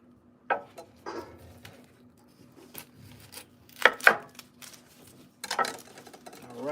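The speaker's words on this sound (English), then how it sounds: "I'm gonna cut up some onions" A knife chops onions on a board in sharp, irregular knocks, a few close together and others spaced out, heard up close in a quiet kitchen.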